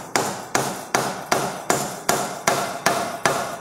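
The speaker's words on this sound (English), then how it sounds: "Let's give her some knocks. It's actually a dead blow hammer." A dead blow hammer knocks on a tractor's cylinder head in a steady series of nine loud, evenly spaced blows, each a sharp thud with a short ringing decay, close and with no voices.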